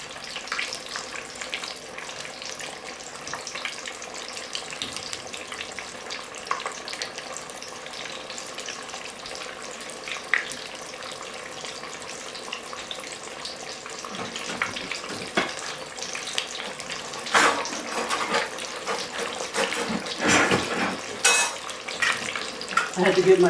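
Corn on the cob deep frying in hot oil, a steady close bubbling sizzle running throughout with occasional louder spatters and clinks toward the end.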